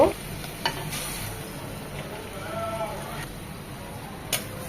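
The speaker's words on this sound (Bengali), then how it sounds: "আদা রসুনটা একটু বেশিই দিলাম এটাকে এক মিনিট ভেজে নেবো" Ginger and garlic paste fries in a pan for a hilsa dish, giving a steady close sizzle with occasional stirring scrapes and a few sharp clicks, and no talk over it.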